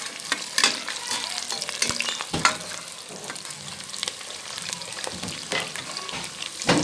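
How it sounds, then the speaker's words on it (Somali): Onions fry in a pan with a continuous crackling sizzle, dense and close, broken by stirring scrapes and occasional louder pops, steady throughout with no talking. "Basashi saas ay noogu soo shiilmaysaa quruxda badan."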